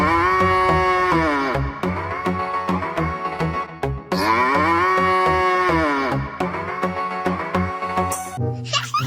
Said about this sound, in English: Oh, this one is a cow.